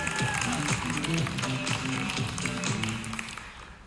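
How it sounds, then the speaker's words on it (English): An audience at a talk gives a full round of applause, with a dense wash of clapping under a voice speaking over it before it fades at the end. "Give yourself a big round of applause."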